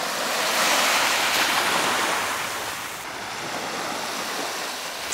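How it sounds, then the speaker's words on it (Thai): Ocean waves break and wash up on a beach at Pranburi in Prachuap Khiri Khan, Thailand, a loud, close surging roar that swells and eases, with some wind buffeting the microphone. "เสียงคลื่นกระทบหาดทำให้จิตใจของเราสงบ"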